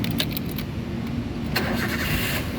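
A 2009 Toyota Avanza 1.3 G with a manual gearbox starts up: a brief cranking followed by the engine catching and settling into a steady idle, heard close with no talk.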